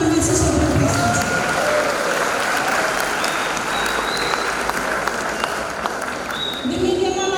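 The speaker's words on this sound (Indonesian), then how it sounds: "Tepuk tangan untuk mahasiswa berprestasi" Steady, loud applause from a graduation ceremony audience honoring outstanding graduates at STT HKBP Pematangsiantar, sustained dense clapping filling the hall for several seconds, with faint voices at the edges.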